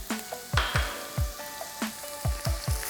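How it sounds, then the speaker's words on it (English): Chopped onions fry in hot bleached palm oil in a pan, giving a close, steady sizzle with recurring sharp crackles and pops spread across the whole stretch, with no voices. "when the oil is hot, I'm going to add in my chopped onions"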